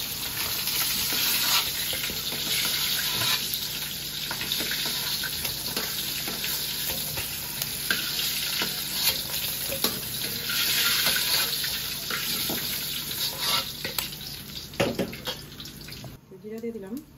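Cumin and a fish curry made with catla fish sizzle and fry in a pan while being stirred, a steady bright hiss running throughout with occasional scraping clatters near the end.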